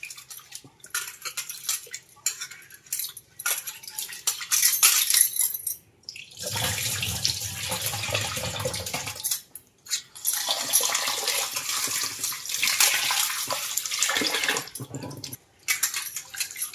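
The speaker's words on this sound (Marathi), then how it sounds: "डाळी तुम्हाला धुवून दाखवते हे सगळे एकदम जरा म्हणजे धुवून घ्यायचे डाळींना" Lentils are washed in water in a kitchen, with running tap water and splashing and sloshing in bursts, separated by short quiet gaps and faint clinks of a vessel.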